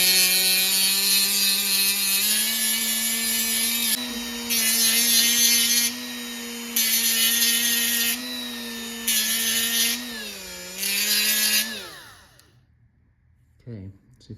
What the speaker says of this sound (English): I like to use power tools here